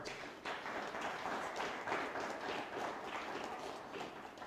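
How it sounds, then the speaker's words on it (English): An audience applauds the candidates at the close of the 2021 Zambian presidential debate: a steady, fairly faint wash of clapping that holds evenly from start to finish. "A big round of applause for them."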